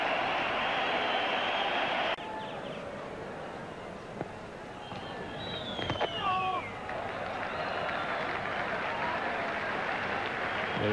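A cricket crowd applauds and cheers during a 1996 World Cup match between India and Australia, a broad roar of clapping that drops partway through and continues at a distance under a commentator's voice.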